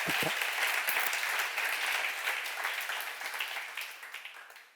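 A church congregation at a seminar breaks into dense, continuous applause, a wash of many hands that holds steady and then tapers off near the end.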